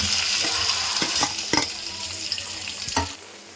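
Boiled potatoes sizzle steadily in a hot pan of frying onions while a spoon scrapes and stirs through them, a few sharp knocks against the pan along the way.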